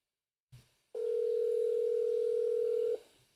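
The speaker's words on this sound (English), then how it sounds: "Oh, it's ringing." A telephone ringback tone on an outgoing call to a politician's office, one steady unbroken tone lasting about two seconds, loud and close, preceded by a brief click, with no talk.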